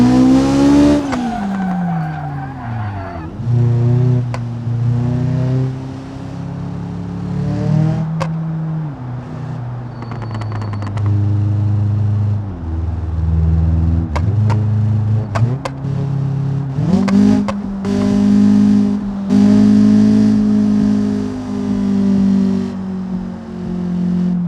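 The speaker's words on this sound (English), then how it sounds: "Some full throttle here. Turbo basically builds its pressure" Turbocharged car engine at full throttle in the BeamNG driving game, revving hard and loud through several gear changes with rising and falling pitch, plus brief tire squeal, with no talking.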